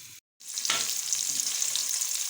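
Sliced medium-sized onion fries in oil with a dense, even hiss after a brief silent gap at the start, a constant close sizzle with no voices.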